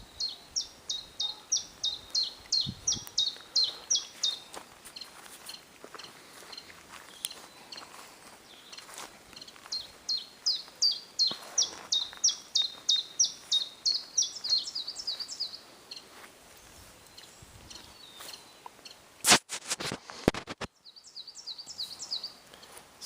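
Birds chirp steadily in a forest with only trees around, bursts of quick high tweets repeating in long rhythmic runs at moderate distance, broken near the end by a few sharp close knocks.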